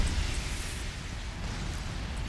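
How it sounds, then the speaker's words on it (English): A boss death explosion in Valheim rolls out as a dense, loud, low rumbling roar that holds steady for a couple of seconds, heard alone. "We got the nice explosion."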